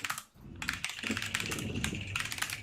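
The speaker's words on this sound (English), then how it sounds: "I can hear my own keyboard echoing in his thing." Computer keyboard typing in rapid, uneven bursts of clicks, fairly close and with a slight echo, continuing steadily with no voices.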